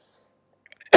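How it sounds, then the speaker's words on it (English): A single sharp, loud cough bursts out at the very end after near silence. "I'm really sorry about this coughing."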